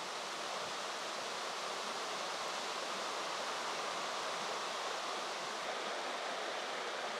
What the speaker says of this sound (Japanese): 一本の川が流れていました。